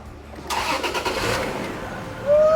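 A Toyota Tacoma engine cranks and fires up, the noise swelling and then settling before a sharp rise in revs at the end, close and fairly loud.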